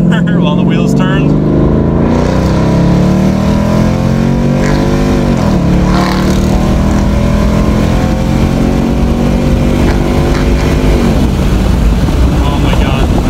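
A 2014 Ford Mustang GT Premium with the Coyote V8 pulling hard from inside the car, loud engine climbing steeply in pitch through the gears with a shift dip midway, occupants talking over it.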